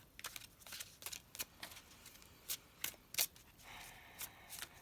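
Crisp riffling and snapping of tarot cards being shuffled close up, a quick series of sharp flicks and soft slides with no talking.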